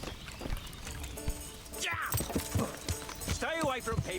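Hoof clip-clops from a horse walking in the video game Kingdom Come: Deliverance, mixed with game music and effects, while someone talks over them.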